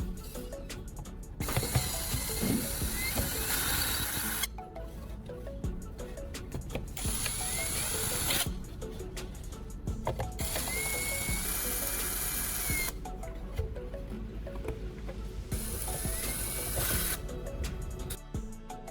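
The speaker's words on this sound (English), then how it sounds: "First, I use a drill to remove the screws inside the old speaker casing." A power drill whirs and ratchets in repeated bursts, removing screws from an old speaker casing nearby, with short breaks between runs and a steady mechanical hum throughout.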